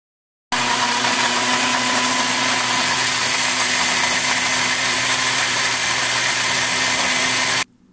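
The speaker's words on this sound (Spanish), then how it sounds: "el próximo paso que voy a hacer es licuar estos dos ingredientes que le estoy enseñando aquí" A blender runs steadily for about seven seconds, whirring loud and close as it purées prunes with aloe vera gel and water, starting abruptly and cutting off near the end with no talking.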